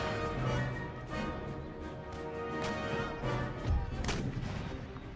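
Artillery fires in the Empire Total War battle as repeated booms and cracks at irregular intervals, set against a constant roar of battlefield noise.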